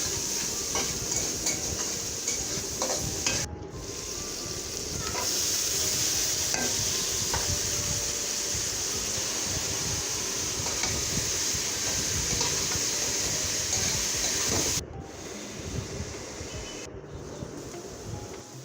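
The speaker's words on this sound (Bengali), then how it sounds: "ভালো করে ভাজা ভাজা করে নিতে হবে।" Shrimp and water lily stems with onion, chili, salt, turmeric and chili powder frying in oil, a loud continuous sizzle with stirring scrapes for nearly twenty seconds, broken by brief gaps, no talking.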